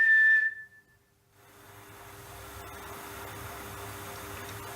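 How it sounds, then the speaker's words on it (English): A short, steady whistled tone rings out at the start inside The Little Theatre in Donnington, then cuts off, leaving a quiet room with a low, constant hum and soft background noise. "Like a really, really faint like whistle, but it was lower than yours."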